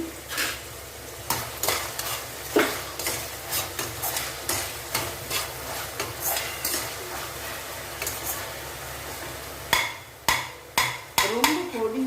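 Banana flower sizzles gently as it sautés in a pan while a utensil scrapes and clacks against it in irregular strokes, with louder knocks near the end.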